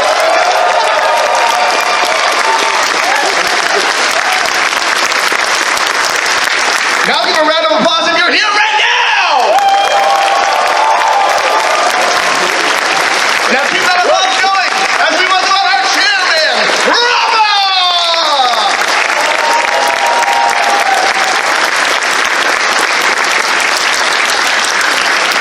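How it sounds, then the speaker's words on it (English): A convention crowd at the Midwest Fur Fest 2019 closing ceremonies claps loudly and steadily, with whoops and shouts rising through the noise and brief calls breaking out in the middle. "Now give a round of applause if this is not your first year at Fur Fest."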